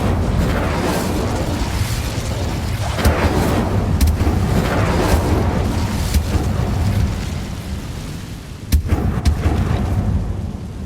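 A fire spell cast in Hogwarts Legacy, a sustained loud roaring burst of flame with booming crackles and a couple of sharp pops near the end.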